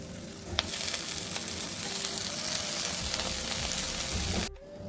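Continuous loud sizzle of amaranth greens frying in a hot pan, steady throughout before cutting off abruptly near the end.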